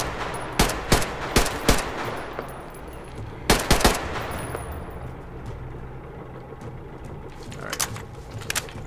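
Incendiary rounds fire in Metro Exodus, Sam's Story: two clusters of sharp, punchy shots come a couple of seconds apart, followed by a lone faint shot or two against low ambient rumble.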